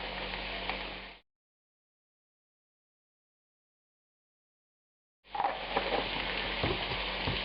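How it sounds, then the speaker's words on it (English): Beef pieces sizzle loudly as they fry on top of softened onions for a Flemish beef and beer stew, a steady close crackle that cuts out to silence and then resumes. "Now we're going to put the meat down on top of it for a minute here."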